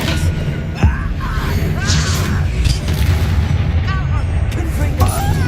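Expelliarmus disarming spell effects crack through Hogwarts Legacy combat, short whooshing zaps and thuds over a constant loud rumble of battle, with voices talking throughout.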